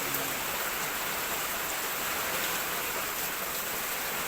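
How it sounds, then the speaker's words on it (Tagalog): Heavy typhoon rain falling outside in the dark before dawn, a dense steady hiss of downpour with no pauses, filling the space evenly. "Lagi-lagi na lang may bagyo dito."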